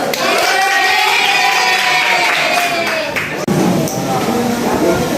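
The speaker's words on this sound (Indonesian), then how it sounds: "Tepuk tangan untuk Alif dulu." Classroom applause for a student named Alif, a dense patter of many small hands clapping together with children's voices chattering over it, broken by a brief dropout partway through before the clapping and chatter resume.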